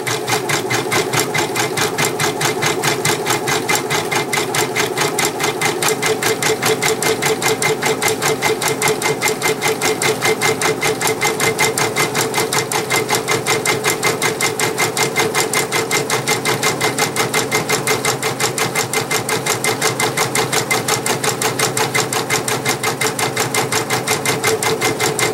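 Embroidery machine stitching on a terry towel, a loud, fast, steady mechanical rattle of needle strokes running continuously without pause, close up and with no voices.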